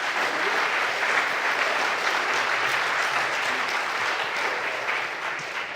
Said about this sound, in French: Merci peut-être de les applaudir